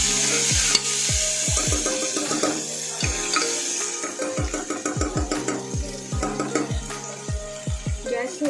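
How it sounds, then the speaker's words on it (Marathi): Onion and tomato sautéing in hot oil for mixed-pulse khichdi, with a constant sizzle under rhythmic knocks and scrapes of a spoon stirring the pan, close and fairly loud throughout. "कांदा थोडासा लालसर झाला की मग आपण त्याच्यामध्ये टॉमॅटो टाकायचा चांगलं परतून घेऊया आपण"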